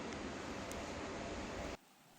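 Steady rain falls in a broad, even hiss for nearly two seconds and then cuts off abruptly into quiet.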